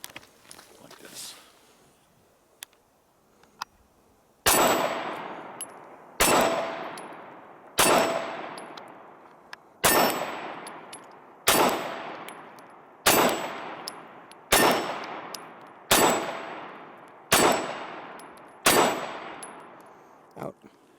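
Compact handgun fired without gloves, about eleven sharp loud shots at a steady pace of roughly one every one and a half seconds, each with a ringing metallic decay, after a few quiet clicks and handling noises.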